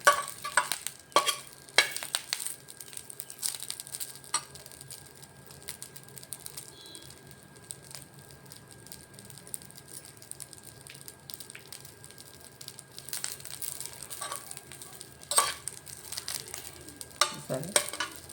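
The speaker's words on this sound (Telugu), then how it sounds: "ఇలా వేయించుకుంటే సరిపోతుంది." A mix of millets and drumstick leaves is dry roasted in a pan and stirred steadily, giving a continuous scraping, rustling clatter with sharper scrapes now and then, close and moderately loud with no talking.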